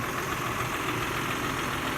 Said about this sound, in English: got the tractor all cleaned up, we got the hay mower hooked up